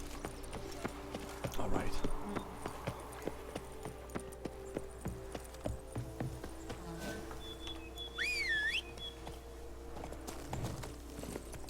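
Roach, the horse in The Witcher 3, walks with steady clip-clopping hooves at moderate loudness, set against game ambience, a brief bird-like chirp, and someone talking over it.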